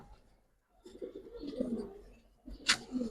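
Coloring pigeons coo in a few soft, low bursts close by, with a faint higher chirp near the end and quiet gaps between calls.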